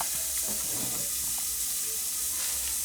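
Steady hiss of food steaming and lightly sizzling in a pan, continuous and fairly close, with faint clinks and stirring movements.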